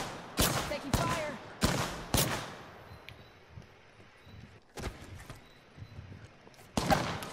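Gunfire in the battle royale shooter Apex Legends: loud, sharp bursts of shots in quick clusters, a pair early and more after pauses, with quieter footsteps and movement between them.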